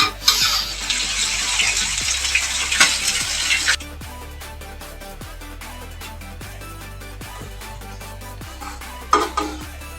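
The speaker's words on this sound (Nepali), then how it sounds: "यता ट्याक्क चिउरा भुट्दैछु अनि साथीले चाहिँ ट्याक्क मासु पकाउँदैछन्।" Beaten rice (chiura) roasting and meat frying in pans, with loud hissing sizzle and stirring for a few seconds, then quieter cooking broken by regular scrapes of a utensil against the pan and a brief sizzle flare near the end.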